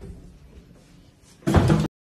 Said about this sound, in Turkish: Kapı tek bir yerden açılıyor.